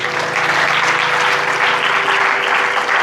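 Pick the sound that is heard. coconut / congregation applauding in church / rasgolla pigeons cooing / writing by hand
congregation applauding in church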